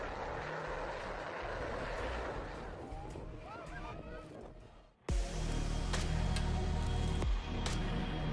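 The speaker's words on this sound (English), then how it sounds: "While landing, planes fly low over the beach, almost touching a tourist's heads." A loud, low roar of a propeller plane landing sweeps in abruptly and dominates, rumbling close overhead a beach after a stretch of busy outdoor background noise.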